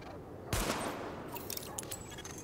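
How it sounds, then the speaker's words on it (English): A sidearm is fired at highlighted targets on a weapon test range in the video game The Division: a sharp shot, then a scatter of lighter follow-up shots over a quiet background hum. "Open fire at the highlighted targets."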